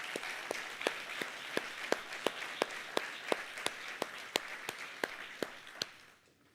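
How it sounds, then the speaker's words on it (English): An audience applauds at a graduate celebration for a master's program in WWII studies, a steady crowd clapping with a few louder individual claps standing out rhythmically, tapering off at the end. "Let's give them a round of applause as well."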